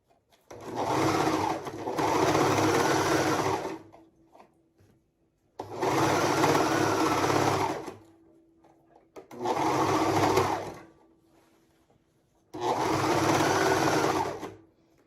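A sewing machine stitches corset seams in four loud, close bursts of steady whirring, each a couple of seconds long, separated by short pauses with a faint hum.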